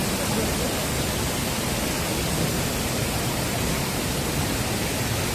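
Cheonmun Waterfall near Seoul, a steady, dense roar of falling water with no breaks or variation, loud and close, filling the whole stretch with no voices.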